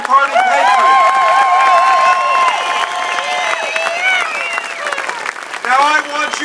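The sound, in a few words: audience applause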